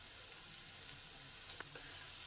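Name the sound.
ginger and onion frying in a pan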